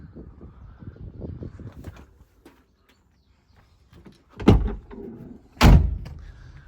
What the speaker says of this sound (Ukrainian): Двері глухо закриваються, навіть оця дверка треба допомагати